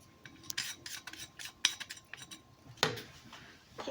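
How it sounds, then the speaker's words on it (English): Spoon or spatula scraping leftover egg from a bowl in a home kitchen during baking, a series of short rasping strokes with light clinks, close and fairly quiet, no talk. "I'm going to scrape every last bit of egg out"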